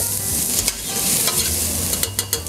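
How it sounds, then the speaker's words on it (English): Onions sweating in a pan over medium heat for a rustic tomato sauce, a close, even sizzle with brief stirring clicks and scrapes near the end, no voices. "what sweating onions means is just going to let it go at a medium heat until it cooks down and becomes translucent"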